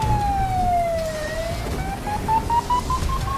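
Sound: police car siren sound effect

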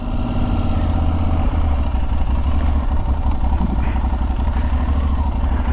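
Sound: Aprilia Tuareg 660 motorcycle turning from a stop

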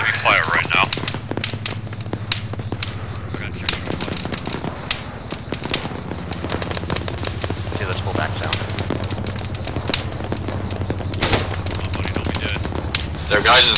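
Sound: heavy machine gun fire in a military video game

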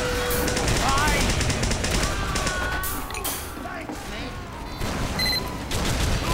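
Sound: gunfire in video game Team Fortress 2

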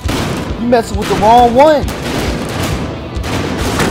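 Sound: minigun gunfire in video game Battlefield Hardline

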